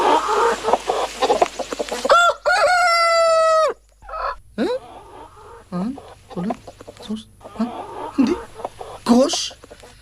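Backyard chickens cluck in short bursts while a rooster lets out one loud, drawn-out crow, all close by, mixed with people talking.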